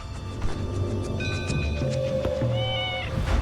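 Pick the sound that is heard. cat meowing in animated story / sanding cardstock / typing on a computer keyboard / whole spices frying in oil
cat meowing in animated story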